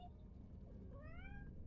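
A pet cat meows once, a rising, drawn-out call that sits faint and nearby in a quiet room with a low background hum.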